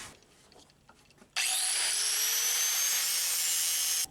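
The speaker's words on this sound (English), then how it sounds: "we're going to smooth all this off so there's a flat surface to mount to" A power tool grinds a metal surface flat on a parking brake mount for a Chevrolet Cruze brake fitted to a V-8 Celica GT-SS, starting abruptly after faint shop noise and running loud and steady for about three seconds before cutting off.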